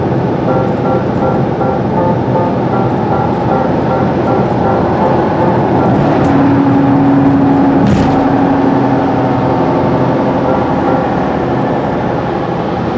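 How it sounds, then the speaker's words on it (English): A small, puny car drives on a highway at around 60 to 70 speed limits, its cabin filled with loud, constant road and engine noise that stays steady throughout, with no talking. "the car is just real noisy"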